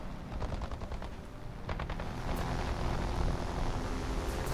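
Rapid bursts of .50 caliber machine-gun fire from a P-40 fighter in War Thunder, loud staccato rattling over steady engine drone, with a second heavier stretch of firing near the middle.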